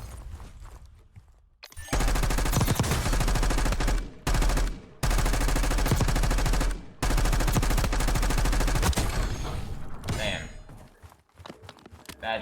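Heavy gunfire crackles through a close-range gunfight in Warzone, loud sustained bursts of automatic fire with brief gaps, tapering into scattered shots and footsteps near the end.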